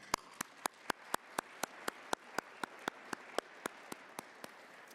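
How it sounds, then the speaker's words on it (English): An audience at a 2025 opening session gives a round of applause, heard as sharp, evenly spaced single claps in a steady rhythm over quiet room noise, fairly faint and distant. "And another round of applause."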